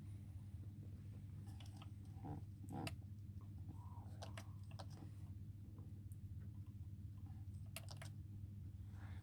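Keys clicking on an El Braille 2 braille device, a few sharp taps clustered together followed by scattered single presses over a steady low background hum.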